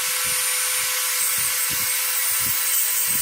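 Dremel rotary tool grinding the edge of a glass piece being flintknapped, a high steady whine with short, repeated low bursts as the bit bites into the glass, close and continuous.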